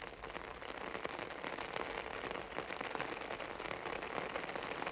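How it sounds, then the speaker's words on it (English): Night-long drizzle drums on a poncho in the Vietnamese jungle, a close, continuous patter of dense raindrop taps with faint irregular thumps, steady throughout and free of voices. "or the night-long drizzle drumming on your poncho."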